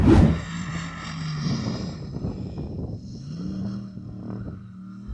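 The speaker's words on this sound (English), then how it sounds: "You're just driving around in circles, Yanni." Performance sports saloon circling repeatedly, its engine note rising and falling as it passes nearby, with a loud burst at the start and a steady droning hum after.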